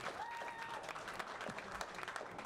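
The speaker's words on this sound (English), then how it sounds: "I want an applause." An audience at a FIESTA founders' event at Capitol Factory claps in a dense, steady round of applause, fairly quiet and distant, with a few faint voices mixed in.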